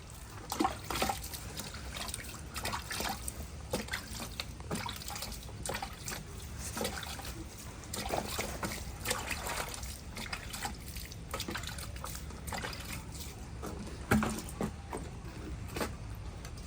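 Water trickles and drips steadily onto neem cake fertilizer being moistened for a sapota tree, a soft continuous liquid sound with a few louder splashes, heard alone at low level.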